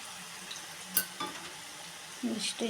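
Garlic and mustard seeds fry in hot oil with a soft sizzle and a few sharp pops and stirring knocks close by, the hiss swelling near the end.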